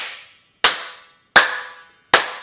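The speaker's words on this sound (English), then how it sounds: "You'll notice this hallway, when I clap," Three sharp hand claps ring out in a hallway, each a crisp, loud crack followed by a long echoing decay before the next, spaced under a second apart.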